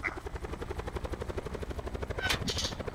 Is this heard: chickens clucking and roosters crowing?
no